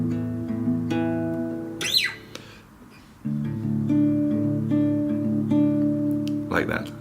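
An acoustic guitar rings out on the closing chord of a song, left to sustain. A brief quiet gap follows, then a fresh strummed chord holds steady for several seconds, with a short voice near the end.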